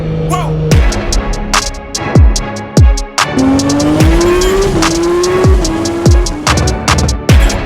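Nissan Skyline R34 GTR driven hard, a loud near engine pulling up through the gears with sharp rising tones, repeated gear-change bursts and squealing tires cutting in throughout, no talking.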